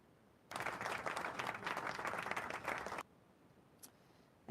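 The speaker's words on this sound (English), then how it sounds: "I clapped for you." A short burst of hand clapping, fairly close and steady for a few seconds, then stops abruptly, leaving a quiet room with a faint knock or two afterward.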